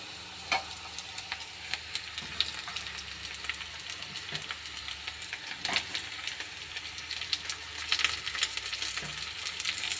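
Onions frying in a pan for a carrot stir-fry, a soft continuous sizzle and hiss with scattered crackles and occasional light stirring knocks throughout.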